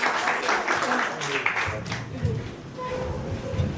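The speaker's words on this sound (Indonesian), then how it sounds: "Tepuk tangan untuk Tuhan Yesus." Congregation at a church anniversary service in Indonesia claps in praise, a dense burst that thins after a couple of seconds into low murmuring and a background hum with indistinct voices.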